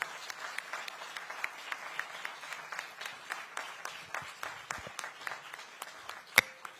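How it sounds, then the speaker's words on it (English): Audience applause for the winners and runners-up at a live responsible leadership event, a steady dense patter of many hands clapping throughout, with one sharp louder clap near the end and no talk. "let's again once more have a huge round of applause for the winners and the runners-up"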